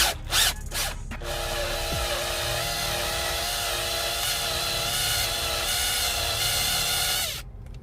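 A power drill bores into the cam tower of a 1985 Toyota Supra during a helicoil installation, a steady high whining drone with a metallic grinding edge that runs several seconds after a few short starts, then cuts off.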